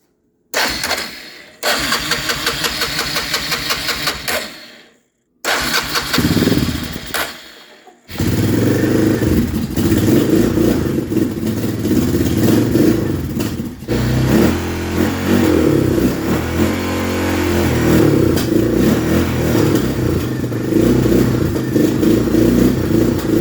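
A Honda ATV engine with a freshly rebuilt carburetor cranks in a couple of short tries, then catches and keeps running with a loud, steady, slightly uneven idle close by.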